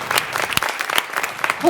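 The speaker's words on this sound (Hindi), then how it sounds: "एक बार सैनिकों के लिए जोरदार तालियां बजे" Applause for soldiers from the audience at a patriotic Hindi poetry recital, a burst of scattered hand claps with sharp individual slaps, moderately close, and a voice breaking in near the end.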